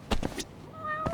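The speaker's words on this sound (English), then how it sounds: "Sorry for the cats." Cats meow a few times in the video game Judgment, short close calls over a low background hum.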